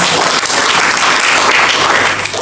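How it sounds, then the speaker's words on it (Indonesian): A church congregation at a fasting prayer gathering on Mount Salak claps and applauds loudly and continuously, a dense, even wash of many hands with no break. "Berikan tepuk tangan."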